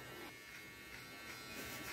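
An electric beard trimmer buzzes steadily and close, a continuous droning hum with slight shifts in pitch as it moves over a beard, with no speech over it.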